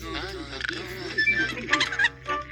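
Birdlike clucking calls from a video game, resembling a fowl, sounding in short bursts over busy game audio and a voice talking.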